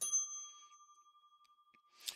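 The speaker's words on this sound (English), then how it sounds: "Man, hit that bell." A single bright bell ding is struck once, then rings out as a long, thin, steady tone that slowly fades, ending with a faint rustle.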